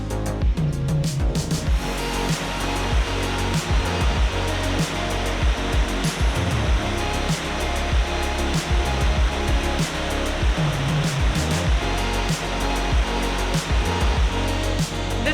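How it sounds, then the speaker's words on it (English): Hopetoun Falls, a rainforest waterfall along the Great Ocean Road, pouring in a loud, steady broadband rush close by, with a brief rustle or knock at the start and no voices. "This is one of the many waterfalls that you're gonna get to see on the Great Ocean Road."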